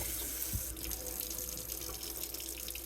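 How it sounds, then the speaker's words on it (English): Steady stream of running water from an indoor tap rinsing the trailing leaves of a houseplant, a continuous close splashing hiss with no voices. "So I'm just trying to rinse off the leaves that are hanging."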